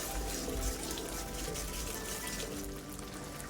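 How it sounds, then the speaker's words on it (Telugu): Peas boiling in a pot for chaat masala, a dense, steady bubbling and watery churn heard up close, continuous without voices. "సో ఫ్రెండ్స్, మనకి బాగా ఉడుకుతుంది చూడండి"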